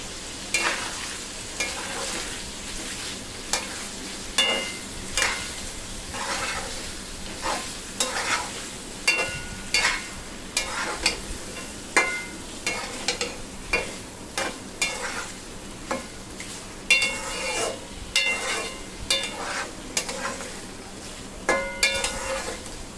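Chicken tehari masala being stirred in a pan, with a steady run of scraping spoon strokes over a continuous background sizzle, close and fairly loud.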